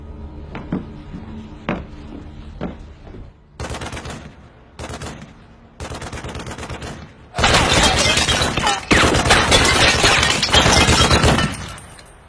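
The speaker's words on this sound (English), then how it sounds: "Shooting." Gunfire in a sci-fi film: a few isolated shots at first, then short separated bursts, then a long, loud sustained fusillade of rapid automatic fire with shattering crashes, ending abruptly.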